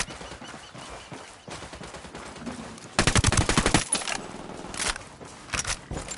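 Automatic gunfire in the video game Ghost Recon Wildlands crackles in rapid bursts, loudest and densest midway, with scattered shots before and after.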